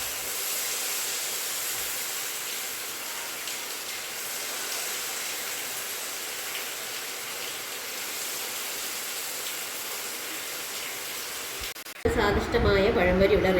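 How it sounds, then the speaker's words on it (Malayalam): Banana fritters (pazham pori) deep-fry in hot oil with a steady, dense hiss and bubbling that holds loud and even, then breaks off abruptly near the end. "ഇനി ഓരോന്ന് എണ്ണയിൽ എടുത്തിടാം."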